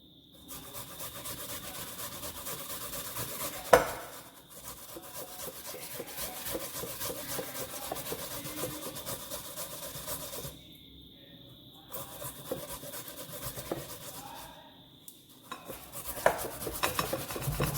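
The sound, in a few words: grating yam on a grater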